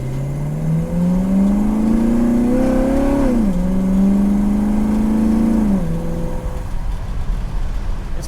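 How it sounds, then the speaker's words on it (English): A 1967 Buick Riviera GS with a three-speed automatic accelerates hard through its gears, the engine note climbing steadily and dropping at each upshift, close and loud with no talking. "I'm shifting it early, but it shifted through all the gears as it should, so it's a 3-speed transmission."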